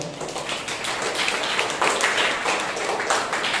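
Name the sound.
congregation applause for a birthday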